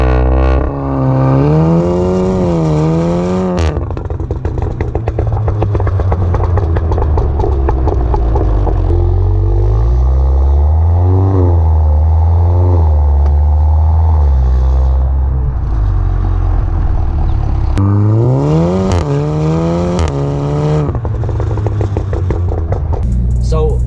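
A VW Golf R Mk7 with a Cobra Sport valved cat-back performance exhaust, recorded up close from the rear while driving, booming loudly as it revs up and down through the gears with rising and falling engine tones throughout.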